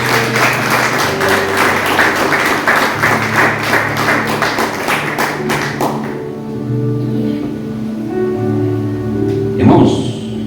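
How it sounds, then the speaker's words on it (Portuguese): A church congregation claps together in praise of the Lord, dense rhythmic clapping with a sustained musical tone underneath, fading after about six seconds as organ or keyboard chords carry on, with a brief voice near the end. "louvando o Senhor com a melhor salva de palmas"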